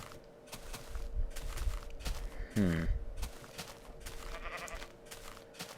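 A sheep bleating in a video game: one short, wavering bleat mid-way stands out over a steady low hum and soft background game noise.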